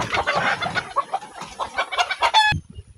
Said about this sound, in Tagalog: Ang daming manok nila dito